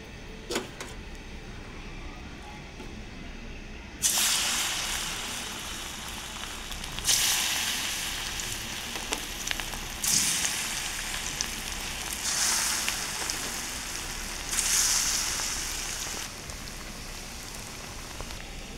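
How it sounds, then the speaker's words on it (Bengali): Pitha made from ripe banana, boiled milk, semolina and salt sizzles in oil in a wok, a loud steady crackle that rises and falls in waves with bursts of sharper spattering. "চুলার উপরে কড়াই বসিয়ে কিছু তেল দিয়ে দিচ্ছি। এখন পিঠাটি সেঁকে নেব।"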